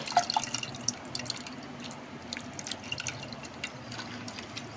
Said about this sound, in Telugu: దీన్ని ఇలాంతా మంచిగా స్మాష్ చేసేసుకొని ఆ వాటర్ని దీంట్లో వేసేసుకుందాం.